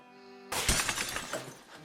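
In an audio drama, glass suddenly shatters after a quiet start, with a sharp crash followed by a scatter of tinkling shards that fades out over about a second.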